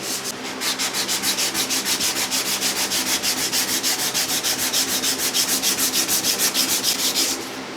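Wooden boat rails are sanded with 400-grit sandpaper in quick back-and-forth strokes, a fast, even rasping rhythm heard up close. The strokes go on for about seven seconds and then stop.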